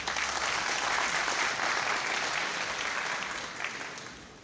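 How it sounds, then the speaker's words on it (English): Audience at a medical college attestation ceremony giving a round of applause, sustained even clapping that fades gradually toward the end. "A round of applause."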